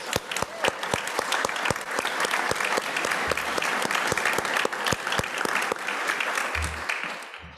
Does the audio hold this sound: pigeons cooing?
no